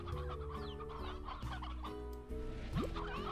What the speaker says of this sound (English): I did find some chickens, which I need to take care of